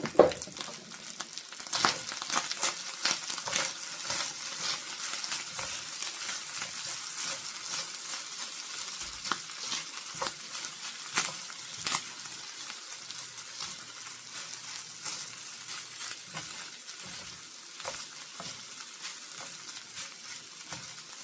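Seasoned ingredients sizzle in a pan as they are stirred with garlic powder, salt and pepper for Japanese omurice, a steady soft frying hiss broken by scraping and clattering stirring strokes, with no talking.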